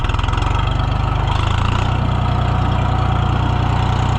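A John Deere 1020 tractor engine runs loud and close with a steady, low, throbbing idle-like chug, a slight shift in pace partway through, no voices.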